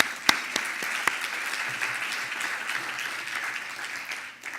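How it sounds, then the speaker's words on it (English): A crowd applauds steadily for several seconds at a summit's closing session, a dense wash of clapping with a few sharper nearby claps early on, then fading slightly at the end. "let's give a round of applause to CPEX for the summit"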